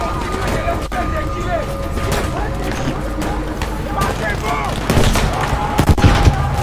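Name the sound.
gunfire in the video game Battlefield V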